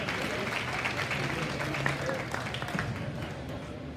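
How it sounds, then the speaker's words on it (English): Applause from the audience at a swine show after a class of spotted hogs, a dense steady patter of many hands that holds for the whole stretch, with a crowd murmur and some talk underneath. "Let's give them a round of applause."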